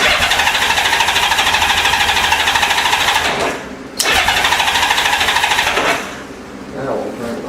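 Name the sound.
Honda Goldwing GL1500 motorcycle engine cranking and starting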